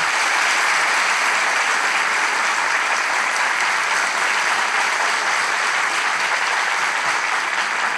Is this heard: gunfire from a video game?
no